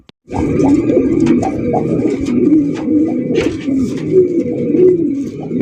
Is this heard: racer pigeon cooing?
yes